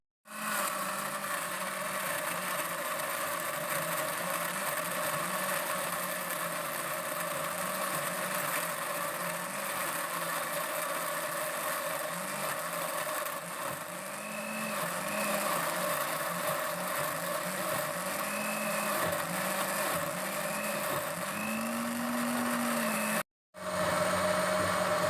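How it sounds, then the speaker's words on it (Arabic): An electric blender grinds small chopped vegetable pieces, a steady loud motor whir running continuously with slight pitch wobble, briefly cutting out near the end before resuming. "قطعتهم قطع صغيره باش نوضعهم في الخلاط الكهربائي نطحنهم مزيان"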